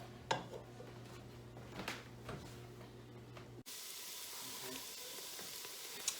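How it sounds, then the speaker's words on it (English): Sliced onions sauté with sugar in a pan for a mushroom soup, giving a soft, steady sizzle with occasional clinks of a utensil against the pan, fairly quiet and close. "It's probably going to take 10 to 15 minutes for these to saute to the point where they're starting to get brown."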